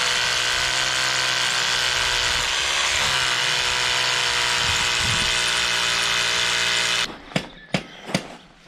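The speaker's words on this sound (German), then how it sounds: "So, Löcher sind gebohrt." A power drill bores holes for posts at a new sawmill site, giving a loud, steady, high whine for about seven seconds. It stops abruptly and is followed by a few sharp knocks.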